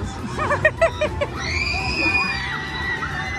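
Children scream together on a ride at an amusement park, loud shrill shrieks rising and falling in bursts before a long sustained wail over crowd babble and ride noise.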